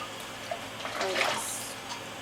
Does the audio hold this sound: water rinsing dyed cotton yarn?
yes